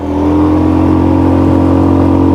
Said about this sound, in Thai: งานนี้คือบิดสุดปลอกแล้วนะท่านผู้ชม